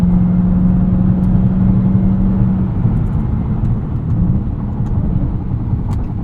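Steady engine roar from a 2023 Dodge Charger Hellcat Widebody Jailbreak with a supercharged V8 and automatic transmission, heard from inside the cabin while downshifting, loud and continuous with a faint whine early on.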